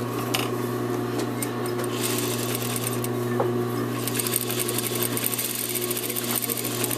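A sewing machine hems the bottom of a shirt with a 1/4 inch seam allowance, running in a steady, rapid, close-up mechanical chatter over a low motor hum, with no talking.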